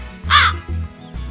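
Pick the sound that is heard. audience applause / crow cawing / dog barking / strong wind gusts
crow cawing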